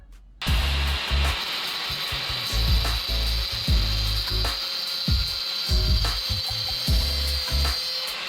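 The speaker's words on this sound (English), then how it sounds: "So I'll grind a little section off here, so that way it'll clear the valve cover." A power grinder cuts a small section off the choke handle of a carburetor on a Coleman mini bike, a loud close whine broken by repeated short bursts of grinding contact, with no voices.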